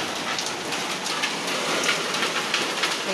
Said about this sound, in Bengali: বাইরে মুষলধারে বৃষ্টি শুরু হয়ে গেছে।